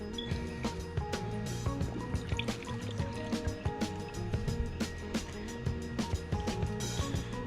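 A scooter part is shaken around in a hydro dip water tank, sloshing and splashing in close, rhythmic bursts over steady background noise.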